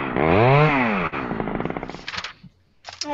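A chainsaw sound effect plays as a mock sports award, a loud buzzing roar with a rising and falling pitch, then choppy sputters and a short final burst.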